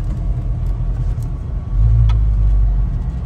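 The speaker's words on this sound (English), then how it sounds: "See how that goes in gear. Nice, quiet, idle." A 1968 Ford Mustang convertible engine at a quiet idle, a steady low rumble that deepens and swells slightly partway through as the car is put in gear.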